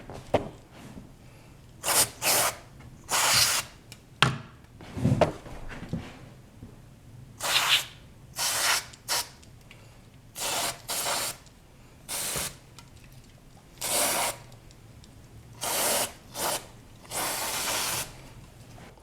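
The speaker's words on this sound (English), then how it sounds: "So I'm going to try to get in here and just give these a little bit of a squirt right about in there to clean them up a little bit." CRC electronic cleaner sprayed onto the potentiometers of a Peavey guitar amp in short hissing bursts, a dozen or so quick squirts of varying length separated by quiet gaps, close and fairly loud.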